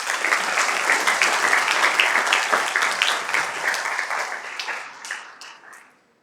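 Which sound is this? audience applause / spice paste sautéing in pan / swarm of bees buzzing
audience applause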